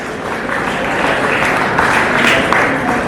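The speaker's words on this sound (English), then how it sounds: "Let us all applaud and congratulate them for scoring 100 out of 100 in history and civics." A school crowd at a Republic Day prize giving applauds students for top marks, producing a loud continuous wash of clapping that swells slightly toward the end.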